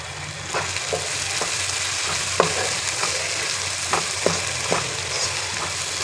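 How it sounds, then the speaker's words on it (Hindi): Turmeric and coriander powder fry on medium flame with salt for mutton paya, a dense close sizzle with occasional spoon scrapes and taps against the pot. "मीडियम फ्लेम पे इसे फ्राई करना है हमने।"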